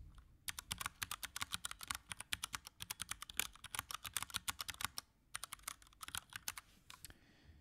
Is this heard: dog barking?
no